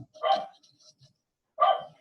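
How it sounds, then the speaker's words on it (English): A dog gives two sharp, close barks about a second and a half apart, with near silence between them. "he barks all the time"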